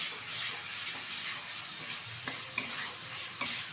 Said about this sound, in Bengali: ভালোভাবে উপকরণগুলো একসাথে কষিয়ে নেব